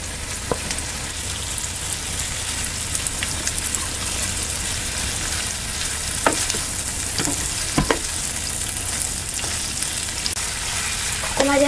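Mushrooms and softened onions fry in butter in a pan, giving a close, continuous sizzle and crackle with occasional scraping stirs, and no talking over it.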